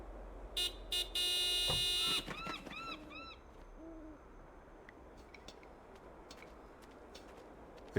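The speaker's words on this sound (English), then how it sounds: "Nico, could you honk the horn again?" A car horn in the Broken Sword 5 video game gives three loud honks in quick succession, the last one long, followed by several shorter wavering tones over a quiet ambient background.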